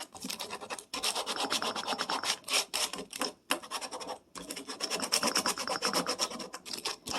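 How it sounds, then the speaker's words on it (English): Aluminum foil rubbed by hand over a dollar-store craft piece to give it a worn finish, making a steady, close, rasping scratch in long strokes with brief pauses between them. "Now I have this foil here. And you're just going to take it and you're going to rub it."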